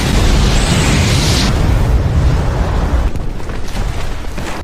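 A massive bomb explodes in a monster movie set on a remote island, a loud, dense roaring blast that fills the whole clip and rumbles on without pause.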